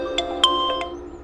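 A short electronic ringtone plays a few bright, chiming notes in a quick melodic pattern over a faint steady hum.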